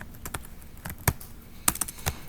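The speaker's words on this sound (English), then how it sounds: "You can see what you're typing." Sparse keystrokes on a computer keyboard while setting up a Git repository, a few scattered clicks and taps at close range over a quiet background, no talking.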